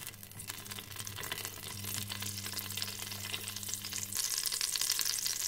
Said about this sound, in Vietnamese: mình sẽ bỏ sả vào đây để mình xào cho nó thơm.